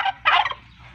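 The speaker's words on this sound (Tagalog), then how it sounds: "Mayroong dalawang pabo, no?" Two quick bursts of turkey gobbling, close and loud, a short rapid warble followed by a fuller second call, from two turkeys in South Cotabato, Philippines.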